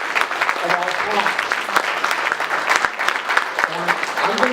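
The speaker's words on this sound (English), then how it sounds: "I want everyone to applaud" An audience at an anthropomorphic-fandom convention opening ceremony applauds its volunteer staff, a steady wash of dense clapping throughout with some voices mixed in.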